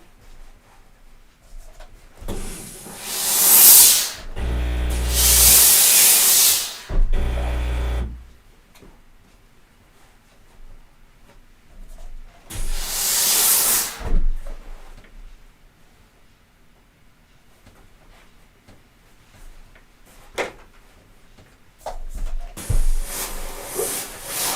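Steam iron hissing in sharp bursts while pressing face-mask fabric: a loud long blast, a second burst, then shorter hisses separated by near silence.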